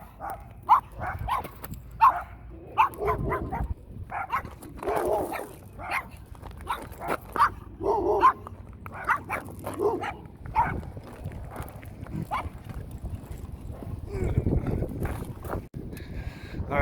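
Dogs bark repeatedly at a cyclist on a road in Fort Stockton, Texas, with sharp, irregular barks near and far, wind and movement noise, and occasional talk.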